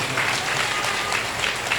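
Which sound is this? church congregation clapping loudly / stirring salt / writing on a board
church congregation clapping loudly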